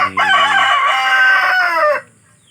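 A young Japanese Shamo chicken, nearly two months old, lets out one loud, close crow lasting about two seconds. It stands alone with no talk.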